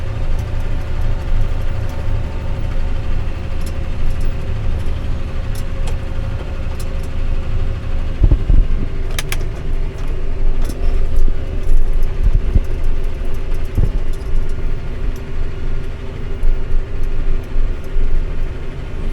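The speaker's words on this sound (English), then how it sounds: "I could back the tractor up" A tractor engine runs steadily while brushing snowmobile trails in the woods, a constant low rumble throughout with a few faint clanks and knocks near the middle.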